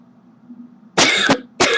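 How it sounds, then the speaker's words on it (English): A person clears their throat twice, with two harsh, raspy bursts close to the microphone over a low steady hum. "Sorry there, I had to clear my throat."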